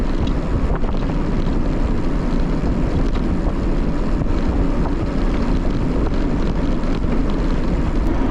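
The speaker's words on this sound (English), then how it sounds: "Pretty windy out here today." Steady, blustery wind buffets the microphone during an outdoor e-bike ride, a constant low roar continuous throughout with no talking.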